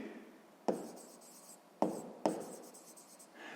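A pen scratches on paper while a math solution is written down: three quick, close strokes with soft rubbing between them in a quiet room.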